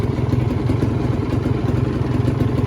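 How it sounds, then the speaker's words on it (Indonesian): A green 2015 Kawasaki Ninja R two-stroke motorcycle idles close by at a steady, low rpm, its engine putting out a rapid, even, rattling putter that continues throughout without voices. "Kita coba nyalakan. Nah sekali pancal nyala ya, mantap."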